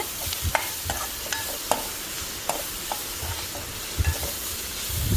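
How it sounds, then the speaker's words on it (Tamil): Shredded cabbage and grated carrot sautéing in a pan with onion: a soft continuous sizzle under repeated clacking stirs of a spatula, close by, with no talk. "நல்லா சுருளை வதக்கி எடுத்துக்கோங்க"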